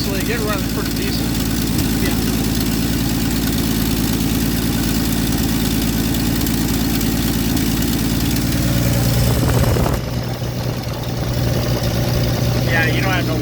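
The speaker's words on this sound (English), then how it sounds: "Other than exhaust leak, it runs pretty decent." A 1978 Ford Granada engine with an exhaust leak idles loudly and close, a steady rough rumble with a brief rev near the end, while people talk over it.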